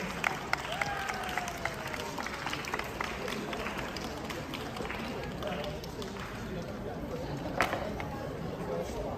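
An audience applauds at the award ceremony of the IDTA Cup World Open dance competition for the under-13 to 15 cha-cha category. The clapping is dense and sustained, with crowd chatter and an announcer's voice over it.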